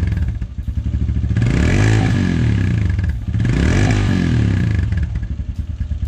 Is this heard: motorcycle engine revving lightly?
yes